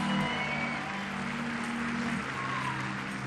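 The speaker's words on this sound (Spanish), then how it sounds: "Un aplauso para todos ellos" Applause from a crowd at a beach volleyball event in Santiago, steady broadband clapping that continues throughout at moderate level, with a sustained tone running underneath for most of it.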